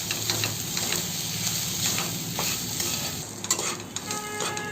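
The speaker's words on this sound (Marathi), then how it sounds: "आता आपण यात ओलं खोबरं घालून घेऊ आणि ते पण छान गुलाबी होईपर्यंत ढवळत राहायचं आहे" Grated fresh coconut frying with onion and garlic for a Malvani chicken rassa, a continuous close sizzle with rhythmic spatula stirring scraping the pan, no voices.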